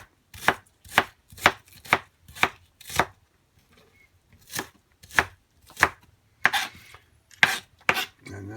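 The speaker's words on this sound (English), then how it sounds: "You can just chop that up." A knife chops an onion on a cutting board for enchilada sauce, with sharp close knocks in quick rhythmic bursts, a short pause, then another run of chops.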